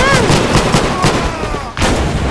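Gunfire in a video game: loud, dense shooting with repeated sharp reports layered over noisy game sound, briefly dropping out near the end before resuming just as loud.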